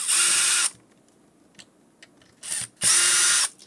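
Power driver unscrewing the screws on a Garmin StreetPilot C320 GPS unit during a teardown, two loud bursts of whirring with quiet clicks between them.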